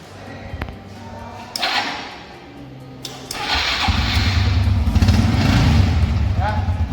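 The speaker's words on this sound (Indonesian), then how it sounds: "sepeda motor kita hidupkan" A motorcycle kicks into life after a few thumping attempts, then settles into a loud, steady running rumble close by, with someone speaking at the start.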